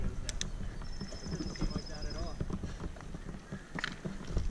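Horses clip-clop along a dirt downhill mountain bike trail in Joaquin Miller Park, hooves thudding irregularly nearby, with people talking over them.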